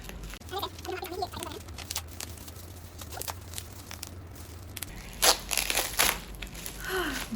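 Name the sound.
opening sturdy packaging of a notebook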